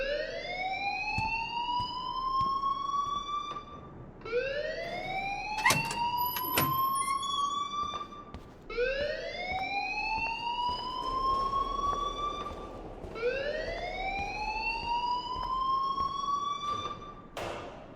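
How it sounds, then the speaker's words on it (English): An alarm ringing in the video game Life is Strange Remastered: a loud, repeating rising electronic siren wail in four long sweeps, with occasional brief clanks in between. "please turn off that alarm since that's your job"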